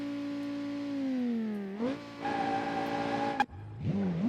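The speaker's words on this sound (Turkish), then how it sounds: "Şöyle bir lastik yak öyle başlayalım." A BMW F10 in BeamNG.drive revs for a burnout. The engine hums steadily with a clear harmonic tone, climbs into a higher strained rev, cuts off sharply, then picks up again. It is heard up close with no talking.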